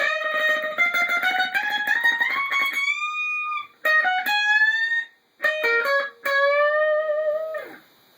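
A distorted electric guitar plays a melodic lead phrase from a solo, with sustained, bent notes in several bursts separated by short gaps, ending on a long held note.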